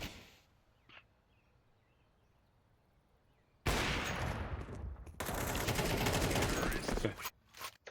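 Gunfire in the Counter-Strike video game on the Inferno map: quiet at first, then loud, sustained bursts of rapid shots fill the second half with only brief gaps.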